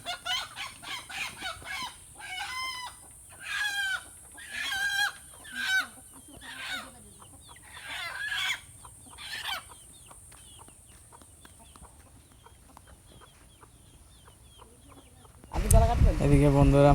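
A rooster caught at a village home for cooking lets out a run of loud, harsh squawking clucks for about ten seconds. Then it falls quiet, and a sudden burst of noise follows at the end.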